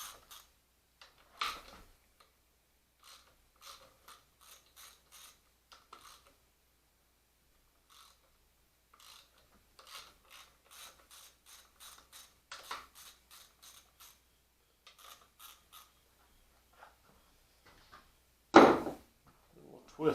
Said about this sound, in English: Loosen these bolts on each. Two on the lower clamp, two on the upper clamp.